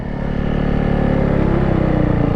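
A 90cc mini bike ridden hard at an abandoned airport produces a close, loud, buzzing engine note that climbs steadily in pitch as it accelerates.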